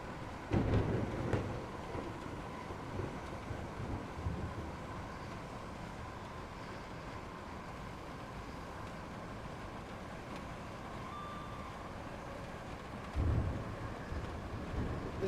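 Rain and thunder in Train Simulator Classic, a steady wash of rainfall with low thunder rolls swelling at the start and again near the end, moderately loud and continuous.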